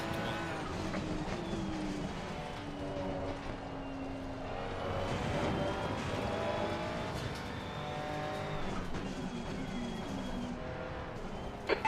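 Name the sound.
race car engines in a sim racing game at Brands Hatch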